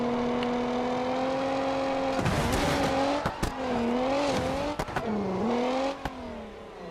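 Loud car engine in the BeamNG driving game, a buzzing drone that wavers up and down in pitch with throttle, broken by sharp clicks and brief noisy bursts like impacts or tire scrubs, close and alone without speech.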